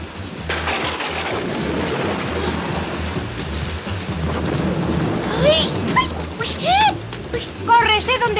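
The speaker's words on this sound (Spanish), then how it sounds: "Ya está tronando." Thunder rolls in a broad, loud, low rumble during a stormy scene in the animated Vicky the Viking series, with high whining, sweeping cries rising over it near the end.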